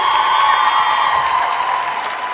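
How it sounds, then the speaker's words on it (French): Audience at the Palais de la Bourse in Bordeaux applauding the cameraman, a dense, steady wash of clapping with a few scattered cheers that holds loud throughout and eases slightly at the end. "alors on peut l'applaudir de fou"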